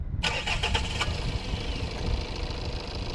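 A Tata Sierra's 1.5-litre diesel engine cranks with a short burst of starter clatter, then catches and settles into a steady, rough diesel idle that runs on loudly and close with no talking.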